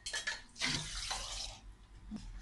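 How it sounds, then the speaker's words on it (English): Water poured onto burning paper, a splashing, hissing wash of liquid that surges in the middle and then tapers off, with a short splash near the end, heard close and fairly quiet. "when the paper is burning, if we pour water,"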